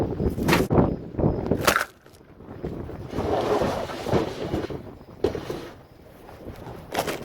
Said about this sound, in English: Really windy out here, as you can tell.